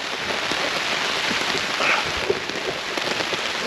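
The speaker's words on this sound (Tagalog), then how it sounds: "Sana wag na lumakas ang ulan." Rain falls steadily at a motocamping site, a dense, loud hiss of drops pattering on surfaces close by, unbroken and alone without voices.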